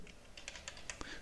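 Quiet, quick keystrokes on a computer keyboard as a command to compile a Java program is typed at a command prompt, a brief run of light clicks.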